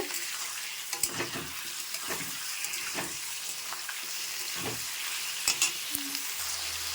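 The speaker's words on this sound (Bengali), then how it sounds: "মাংসগুলো তো আজকে আবার ভাবছি একটু ভেজে নিয়েই করব" Chicken pieces frying in a pan over onion tempering, a steady close sizzle with intermittent scraping and stirring strokes, alone without talk.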